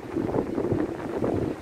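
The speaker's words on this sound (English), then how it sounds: "Hold on to my camera because of the wind, just to be on the safe side, but it's extremely windy." Strong gusts buffet a camera microphone outdoors near the sea, a loud, continuous low rumble that swells and dips with no speech over it.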